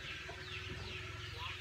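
Chickens clucking noisily in a rural yard, a busy, continuous mix of low clucks under steady background noise.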